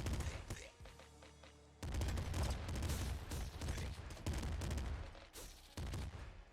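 Rapid pop rifle gunfire from the top-down shooter Nuclear Throne, with dense bursts of sharp shots repeating across the whole stretch alongside game effects.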